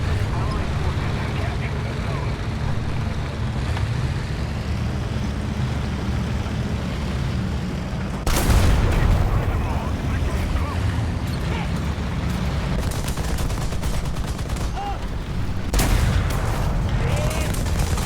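Machine gun fire in War Thunder, heavy rumbling battle noise with two sharp loud bursts standing out over a constant low engine-like drone, under voices.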